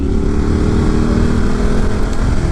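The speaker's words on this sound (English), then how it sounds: "I'm going to be riding the motorcycle based on direction" A motorcycle heading into a downhill corner on a gravel-strewn road gives a loud, steady, close-up engine drone mixed with rushing wind, with no speech.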